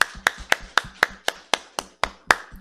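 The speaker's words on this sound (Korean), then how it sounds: "하나님께 영광의 박수." Church congregation clapping during a Sunday evening worship service, about ten sharp, evenly spaced claps in a steady rhythm, close and distinct with no talking over them.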